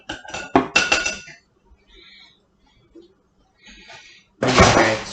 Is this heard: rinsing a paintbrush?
yes